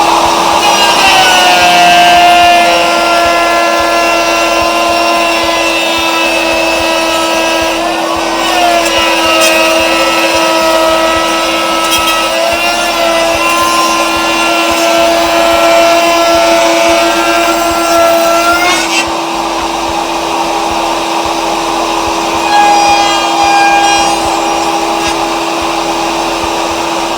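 Table router spinning and cutting wood, a loud sustained high-pitched whine with a steady motor hum beneath, its pitch dipping and recovering as the workpiece is fed through for about twenty seconds, no talking.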